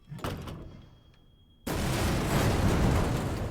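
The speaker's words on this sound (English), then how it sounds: "That explosion is so loud." Some faint thuds and a thin tone, then a sudden loud explosion in Resident Evil 2 (2019) that keeps roaring as a dense, rumbling wash of noise.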